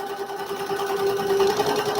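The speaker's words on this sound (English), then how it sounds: "So this one is a little clickety. It needs a little bit more oil." A sewing machine just taken out of storage runs steadily, a little clickety and in need of oil, with a close, continuous mechanical whir and faint ticking throughout.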